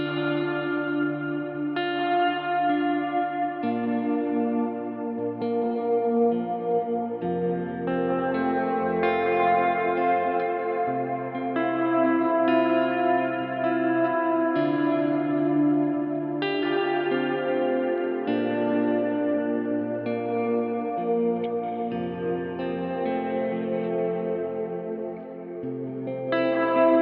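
Guitar chords played through a Kemper shimmer reverb ring out in a lush, washy wash with high shimmering overtones that bloom and hang over each strum, played continuously without any voice.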